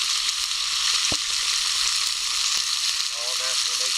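Bacon fries in a pan at a cold-weather canoe campsite, giving a dense, continuous crackling sizzle with scattered pops and a short tick, steady and close throughout with faint voices in the background.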